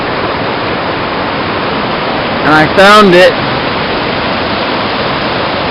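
Steady, full rushing of river water on the Little North Fork Santiam in Oregon fills the whole stretch, with someone speaking briefly near the middle over the constant flow.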